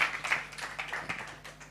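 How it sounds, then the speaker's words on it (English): Audience clapping at a Father's Day community event, a modest room of hands applauding in a brisk, uneven patter, fairly quiet and heard on its own. "Let's clap for them."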